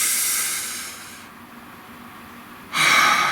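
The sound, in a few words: deep breath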